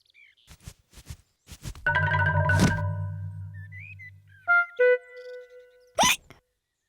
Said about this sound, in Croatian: George i dalje ima štucavicu